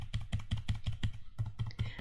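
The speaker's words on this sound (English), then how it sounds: "You could use up bottom, left, right keys on your keyboard to move around." Keys on a computer keyboard are tapped in a steady, even rhythm, roughly a dozen crisp close clicks in two seconds with a brief pause near the middle.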